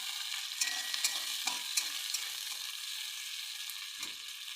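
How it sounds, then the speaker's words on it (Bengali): Chopped onions fry with cinnamon, cloves and ginger paste while a spatula stirs them. Soft sizzling runs underneath intermittent scraping and clinking strokes, fairly quiet and close, with no voices. "এরপরে পেঁয়াজ কুচিকে তুলে দেবো এটাকে ভালোভাবে নেড়ে চড়ে নিতে হবে"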